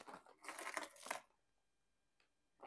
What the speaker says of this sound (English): That's a bit of plastic bag.